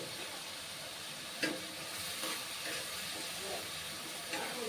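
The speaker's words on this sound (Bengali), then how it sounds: "হলুদ গুঁড়ো লঙ্কা গুঁড়ো আর জিরে গুঁড়ো দিয়ে এটাকে ভালো করে কষে নেব" A spice paste with turmeric, chili and cumin powder is sautéed in a pan, giving a steady soft sizzle and hiss with a few faint stirring scrapes.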